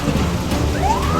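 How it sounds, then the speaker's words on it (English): Cartoon acid rain pours as a dense, steady hiss with low thunder rumbling beneath, and a rising tone slides in near the end, all loud and continuous without talking. "Acid rain started and I'm really scared."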